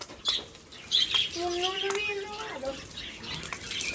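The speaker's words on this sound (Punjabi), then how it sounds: "ਆਪਾਂ ਚਲਾ ਲਈ ਬਈ ਮੋਟਰ ਤੇ ਆਪਾਂ ਛਿੜਕਦੇ ਆ ਹੁਣ ਪਾਣੀ ਮਾਸਟਰ ਕੇਜ ਦੇ ਅੰਦਰ" A motor pump sprays cold water inside a pigeon cage, giving a hissing spray with splashing and a rising whistle-like tone, while someone talks over it.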